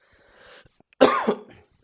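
A single harsh cough rings out after a quiet moment, close and loud, trailing off with a bit of throat noise.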